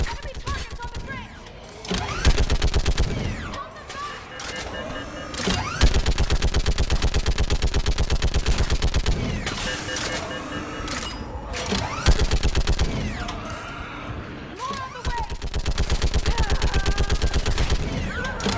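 Gunfire from Mass Effect 3 during a battle on Thessia: loud, rapid automatic bursts repeat in long strings with brief pauses, while voices shout over the shooting.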